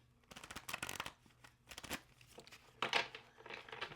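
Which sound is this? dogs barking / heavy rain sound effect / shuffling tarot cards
shuffling tarot cards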